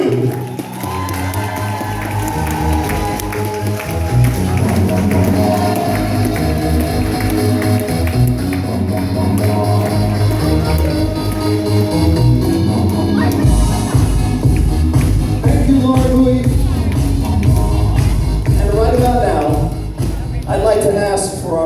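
Wedding guests cheer and applaud the matron of honor at a reception, a loud, sustained burst of clapping and shouts from a full room, with music playing underneath.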